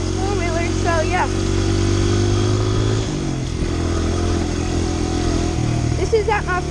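A Honda CRF100 dirt bike engine runs steadily nearby, its drone shifting pitch a couple of times as the revs change, while someone talks over it throughout.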